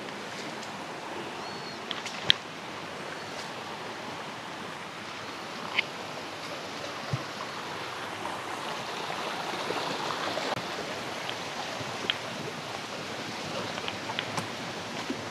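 Small waterfalls spill steadily at a hidden lagoon in Barangay Tua, Magallanes, Cavite, giving a continuous, even rush of water with occasional faint clicks.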